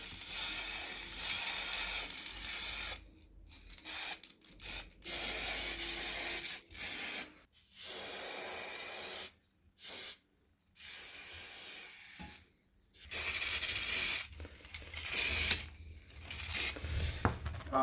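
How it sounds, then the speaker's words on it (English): Spray paint hissing from a can onto a leaf in repeated close bursts of a few seconds each, separated by short silent gaps, with no talk. "So what color are we spraying now?"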